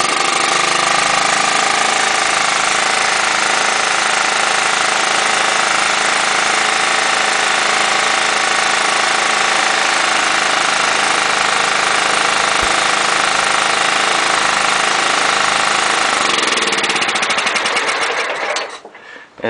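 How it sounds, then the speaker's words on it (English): A John Deere LT155 lawn tractor's 15HP Kohler engine running steadily, loud and close, a continuous buzzing drone that holds even throughout before cutting off abruptly at the end. "getting your John Deere 15 horsepower engine to start without using starter fluid"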